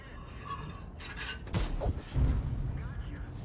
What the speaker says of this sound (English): Got 2 shots out of him